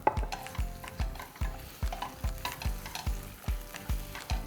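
Curry paste and coconut milk stir-fry in oil in a pan, rhythmic spatula strokes about twice a second, each scrape over a bubbling sizzle, close and clear without speech.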